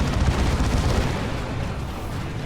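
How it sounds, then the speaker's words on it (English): An assault cannon in the strategy game Dawn of War 2 fires a dense, loud burst of heavy automatic rounds, a continuous booming roar of rapid impacts. "some friendly fire from the assault cannon there"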